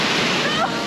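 A waterfall on a theme park water ride at Toverland pours down onto the riders, a loud, dense, continuous rush of splashing water close by, with voices mixed in.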